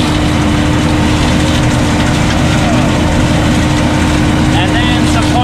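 John Deere 300 tractor engine running steadily while picking corn in winter, a loud constant drone with a humming tone, and talk over it.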